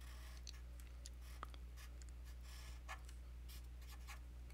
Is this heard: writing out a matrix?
yes